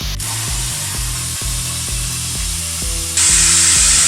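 A power tool cuts steadily through a metal panel during a welding repair, a loud continuous whine with stuttering low pulses and a sharper high hiss rising near the end, no talking.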